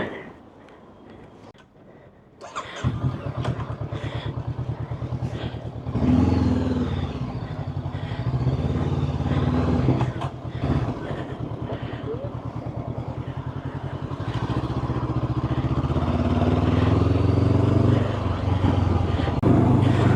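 Honda CB500X motorcycle on the road, its engine drone rising after a quiet start and then holding steady and loud with clattering and wind noise throughout.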